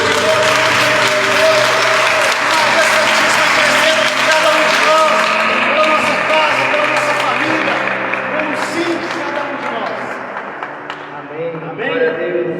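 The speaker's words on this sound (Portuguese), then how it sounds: "Uma salva de palmas para esse Jesus." A church congregation claps for Jesus during a Portuguese-language worship service, a full, loud round of applause lasting about twelve seconds with music or voices sustained underneath.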